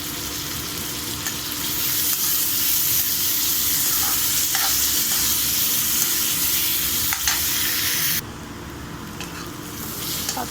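Chopped onion and green chillies fry in hot oil until golden brown, giving off a dense, continuous hiss with occasional soft pops and stirring. The loud sizzle drops suddenly to a quieter level near the end.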